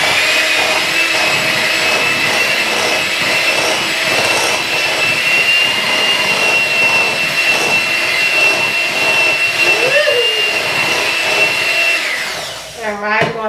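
An electric mixer beats eggs into tea cake batter for lemon-glazed Southern tea cakes, giving a loud, steady whir that runs about twelve seconds before cutting off, followed by a brief vocal exclamation.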